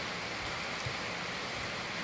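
Steady rain falls, a constant close hiss of drops with no voices and no change in loudness.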